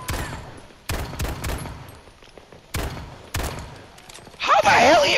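Gunfire in Battlefield 2042 on PS5, Haven map: several separate loud shots and short bursts spread across the clip. A harsh, dense blast of sound closes it.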